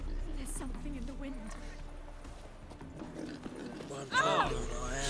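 Roach, a horse in the Witcher 3 video game, clip-clops along in a steady hoof rhythm, then lets out a sharp whinny near the end, all beneath ongoing conversation.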